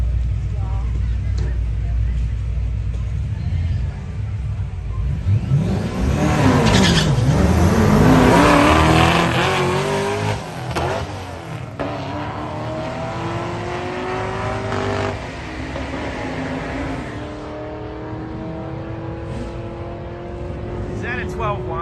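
A Lexus ISF launches down a quarter-mile drag strip at a street racing event, its engine roaring and climbing through gears, loud at first and then fading into the distance while people talk nearby.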